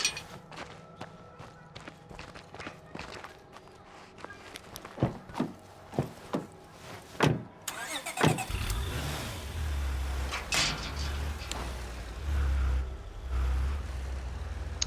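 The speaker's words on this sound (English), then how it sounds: "the car makes a lot of noise" In a post-apocalyptic zombie video game, a run of sharp footstep-like thuds gives way to a car engine that starts up and rumbles loudly with low revving surges for the rest of the moment.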